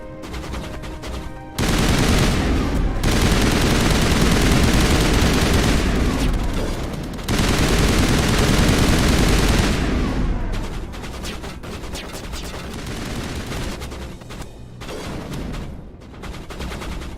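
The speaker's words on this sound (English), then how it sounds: "What are y'all shooting at now?" Dense video game gunfire in bursts, loud and broadband, with heavy sustained stretches broken by short pauses and scattered lighter shots toward the end.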